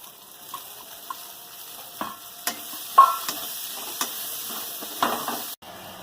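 Chopped onion, crushed whole garam masala, bay leaf and garlic paste frying in a pan for a cauliflower egg curry, a soft steady sizzle broken by occasional spatula taps and stirring scrapes.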